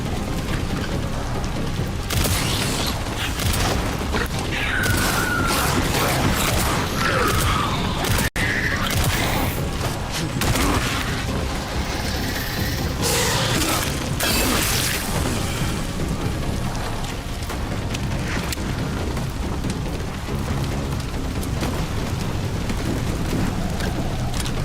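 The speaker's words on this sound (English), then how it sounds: "Good old hand grenades." Hand grenade blasts in the video game Resident Evil 9, heavy booming explosions and rumbling debris layered over a dense, continuous wash of game noise, loud throughout with no clear pauses.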